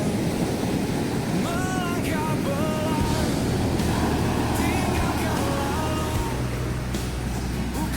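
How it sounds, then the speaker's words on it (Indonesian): Big ocean waves break on the shore in a steady, loud, wind-blown roar that fills the whole stretch, with faint voices now and then above the surf. "Jadi kalau di sini itu ombaknya gede banget."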